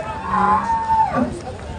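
A large Holstein Friesian cow, shown among cattle for Eid sacrifice, gives one loud, drawn-out moo close by that rises and then falls away, with no other sounds around it.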